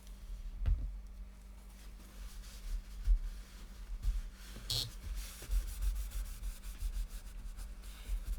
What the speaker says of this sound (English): I'm going to go ahead and burnish that down